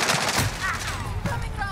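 Rapid pistol gunfire in Call of Duty Warzone, several sharp cracks in quick succession, loud and close, with a little talk around them.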